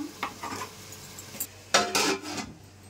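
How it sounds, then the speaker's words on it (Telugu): A lid clatters onto a cooking pot of mutton biryani in a kitchen, a couple of short metallic clinks and a scrape standing out against quiet stirring and utensil noise, fairly close and with no talking. "మూత పెట్టేస్తున్నాను."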